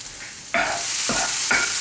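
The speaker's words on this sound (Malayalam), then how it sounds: "അത് ചേർത്ത് ഇത് നന്നായിട്ട് വറുത്തെടുക്കണം." Grated coconut roasts in a pan for a Malabar-style varutharacha sambar, with three distinct scraping stirs of a spoon against the pan over a steady, soft sizzle, close and clear.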